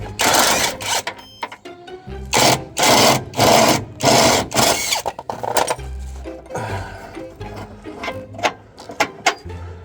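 Suspension wishbone bolts are undone on a VW Golf mk3 GTI, producing a loud run of rapid, rhythmic mechanical bursts with clinking in the middle, surrounded by quieter handling noises close by.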